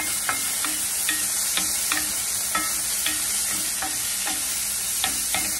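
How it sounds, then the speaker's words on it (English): Steak for a stir fry sizzles loudly in a pan with a constant bright hiss, broken by regular spatula scrapes and taps about every half second; close, with no talking. "our steak is cooking"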